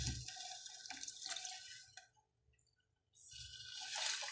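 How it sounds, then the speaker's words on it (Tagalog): Pork broth poured into a cooking pot, a steady close splashing pour that stops briefly and then resumes. "Pwede na po nating idagdag ulit yung pinagpakuluan po natin ng baboy."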